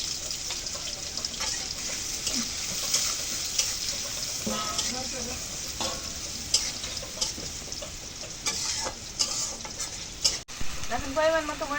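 Oil hisses and sizzles in a pan as a large, three-kilo birket fish cooks, a steady frying crackle close by with faint stirring scrapes and a brief voice near the end.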